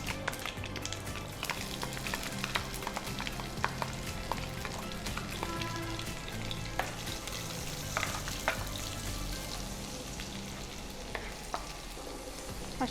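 Chopped onion fries in hot oil with cumin and popping mustard seeds for dahi tadka, giving a steady close sizzle full of crackles and sharp pops, with no talk.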